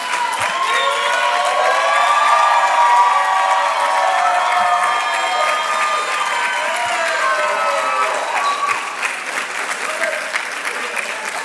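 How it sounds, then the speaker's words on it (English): A seated audience of families applauds and cheers a graduating physician assistant class at a white coat ceremony, with steady, dense clapping and crowd noise sustained throughout and a few shouts rising above. "Everyone give them a round of applause."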